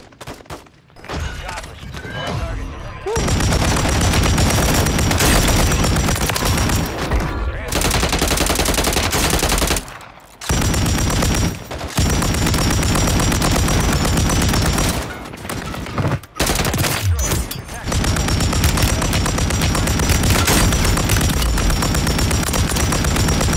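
Rapid bursts of video game gunfire, near and loud, with dense sustained volleys broken by a few short pauses, and occasional voices under the shooting.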